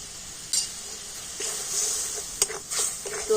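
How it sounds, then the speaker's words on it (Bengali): Spices sizzling in a pan after a splash of water, stirred with scraping strokes; a steady hiss runs throughout, broken by several sharp clinks and scrapes of the spoon against the pan. "সমস্ত মশলাগুলো একটু ভালো করে কষে নেব"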